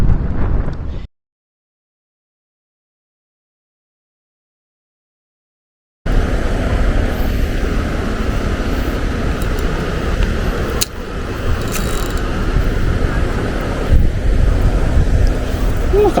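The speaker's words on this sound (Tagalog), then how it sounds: "Sobrang maalog yung tubig ngayon dahil sa sobrang lakas ng hangin." Strong wind roars across a choppy river at a fishing spot, a loud continuous rumble against the microphone that cuts out briefly and then returns with splashing water beneath it.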